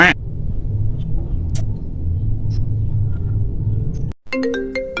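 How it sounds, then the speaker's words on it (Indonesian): A low engine rumble with a few faint chimes, then a phone ringtone starts abruptly near the end, its bright electronic melody close and clear. "Ieu suara telepon"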